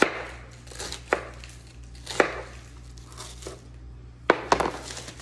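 A knife slices through a head of cabbage on a cutting board, about six crisp, crunchy cuts at uneven intervals, close and fairly quiet.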